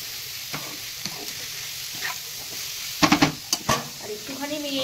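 Cauliflower fries in a pan with a light, steady sizzle, broken by a few sharp scrapes and clinks of stirring near the end.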